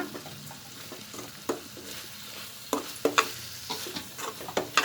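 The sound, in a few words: stirring ivy gourd (tondekai) stir-fry in a pan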